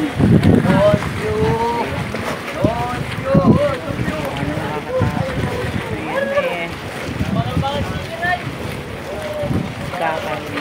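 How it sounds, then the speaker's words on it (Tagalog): Wind and big sea waves buffet a passenger boat sailing in bad weather, a loud rushing roar with surging swells, while someone talks over it. "Ganyan po ang kalalaki ang alon."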